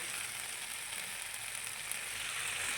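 Spiced mixed vegetables sizzle in a pan after a little water goes in, giving a soft, even, continuous hiss with no voices.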